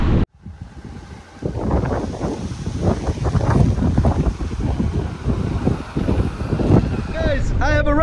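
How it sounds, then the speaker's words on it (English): Strong gusting wind at Achakkar Beach, Morocco, buffets the microphone with a heavy rumbling roar, while a person's voice comes through faintly underneath. "it's just really windy. So I'm sorry about the mic."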